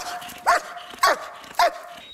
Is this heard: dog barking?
yes